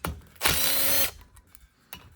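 A power tool briefly whirs to back out a reed block bolt on a 1980 Honda CR80R dirt bike, one sharp half-second burst close by, followed by quiet clicks of parts being handled.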